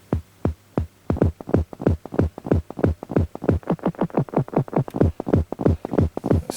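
Korg Minilogue synthesizer with delay feedback, playing a fast, steady train of throbbing pulses that repeat roughly every quarter second and grow denser, loud and close with no voices.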